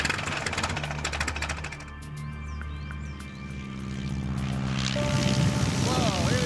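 A vintage wood and canvas propeller biplane drones in flight, its engine rattling steadily and swelling louder toward the end, with a voice speaking over it.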